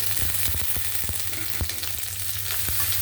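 Onions frying in a pan with bay leaf, clove, green chilli and curry leaves for a potato kurma, a close steady sizzle with scattered sharp pops and stirring clicks, no talk.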